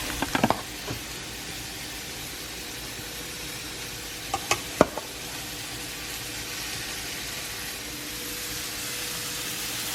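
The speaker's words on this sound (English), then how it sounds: "we are just going to take this gorgeous roasted broccoli and dump it straight in the pan" Roasted broccoli dropped into a hot pan sizzles steadily up close, with a few sharp clatters and stirring knocks early and again midway, the frying hiss holding throughout.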